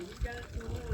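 Water trickling and splashing from the mouth of a Nandi statue at the Madhyamaheshwar temple in Uttarakhand's hills, a brief, soft liquid flow under a speaking voice.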